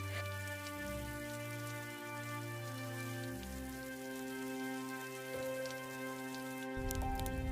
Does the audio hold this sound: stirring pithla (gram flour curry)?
no